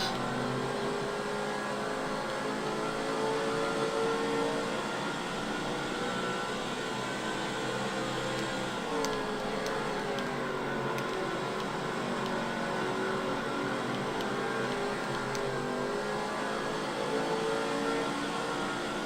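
Race car engines in NASCAR 06 during a Busch Series race at Milwaukee Mile, a continuous loud high-pitched roar with shifting tones as cars circle the oval, no talk over it.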